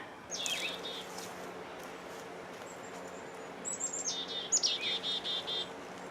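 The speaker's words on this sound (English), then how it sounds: "The birdies are singing." Small birds sing in a garden in late April with a few quick chirps early on, then a run of whistled, repeated notes, all fairly faint over a low background hum.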